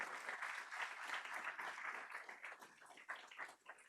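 Audience applause at an international electric mobility forum, a dense, steady wash of many hands clapping that swells and fades slightly over several seconds, fairly close and continuous.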